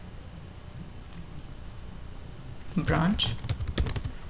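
Keys clatter on a computer keyboard as a git command to delete a branch is typed, a quick burst of clicks arriving after a quiet start while someone talks over it.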